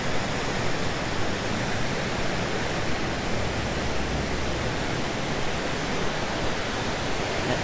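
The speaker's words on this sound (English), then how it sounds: "let's see the waterfalls from the bridge view" A waterfall at Illick Mill in Bethlehem, Pennsylvania, viewed from a bridge, roars as an even, broadband rush of falling water, steady and full with no breaks or voices.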